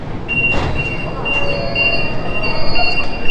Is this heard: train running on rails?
yes